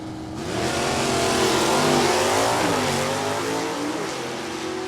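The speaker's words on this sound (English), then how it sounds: "Jason Clark, high stock automatic Chevelle" Drag racing cars launching down a strip, a high stock automatic Chevelle and a 4-speed Camaro with a 327, loud roaring engines accelerating with rising and falling pitch, heard fairly close with no talk.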